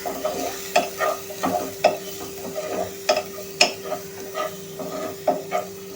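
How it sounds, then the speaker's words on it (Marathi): Garlic and green chili frying in oil in a pan for kadhi pakoda, a steady sizzle broken by repeated sharp scrapes and knocks of a spoon stirring against the pan. "आता आपण हे तेलावरती छानपैकी फ्राय करून घेऊया."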